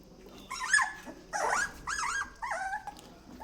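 Fluffy puppies play-fight nearby, trading a quick series of small growls, yips and whiny barks in short bursts, fairly close with no voices over them.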